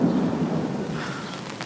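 Thunder during a New York City thunderstorm, a deep rumbling roll that fills the whole moment, loud and close, with rain hissing beneath it.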